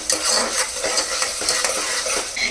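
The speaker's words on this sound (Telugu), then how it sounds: "ఈ ఆనియన్స్ గోల్డెన్ బ్రౌన్ కలర్ వరకు ఫ్రై అవ్వాలి." Onions fry in a pan with salt while being stirred toward golden brown, a loud, dense sizzle with rapid scraping stir strokes, close up, with no speech.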